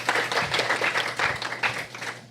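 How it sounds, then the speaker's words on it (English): A small group claps briefly and unevenly, the applause fairly close and moderately loud. "Everybody clap. Everybody clap."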